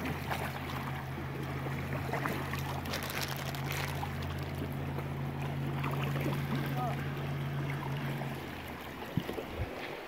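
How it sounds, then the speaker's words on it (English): Canoe paddled through open water, with steady watery swishing and splashing over a constant low hum and some wind, continuing evenly before fading near the end. "Emma, paddle and get us around the corner."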